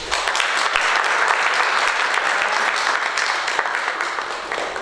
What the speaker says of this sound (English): So I think they need a round of applause.